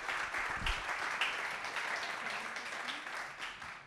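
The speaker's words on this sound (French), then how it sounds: "on vous applaudit et merci pour tout" Sustained audience applause at a consumer cooperative's annual general meeting, a steady dense patter of many hands heard from a slight distance at moderate level.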